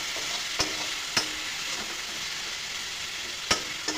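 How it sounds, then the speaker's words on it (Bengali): Onion, garlic, ginger, green chili and ground spices frying in hot oil for a small-fish chorchori, a dense continuous sizzle with a few sharp clicks of a spatula against the pan. "এখন ওইটা ভাজবো পেঁয়াজ রসুন আদা কাঁচা লঙ্কা সব কিছু মশলাও দিয়ে দেবো"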